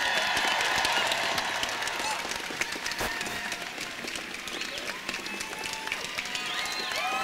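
Outdoor crowd at a student climate strike rally in Iowa City clapping and cheering, a scattered patter of many hands with whoops, fairly distant and steady throughout.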